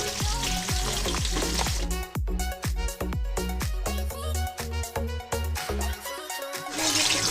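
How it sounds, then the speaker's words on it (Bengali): Ten potatoes fry in hot oil, seasoned with turmeric and salt, as they are stirred. A loud hiss opens and closes the sound, and ringing metallic knocks from the utensil against the pan come in between, close by with no talking. "গরম তেলে আলুটা হালকা নাড়াচাড়া করে এবার উপর থেকে আমি একটু হলুদ ও লবণ দিয়ে দেব"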